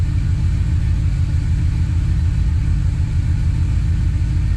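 A car engine fitted with Holley Sniper fuel injection idles while it warms up, a loud, steady, close low rumble that never changes and has no voices over it.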